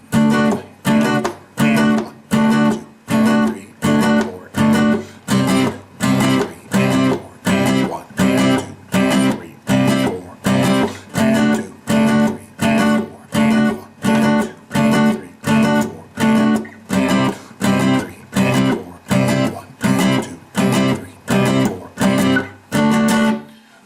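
Reggae chords played as sixteenth notes on the upbeat, loud short chord stabs repeating in a steady, even pulse throughout, with no voices.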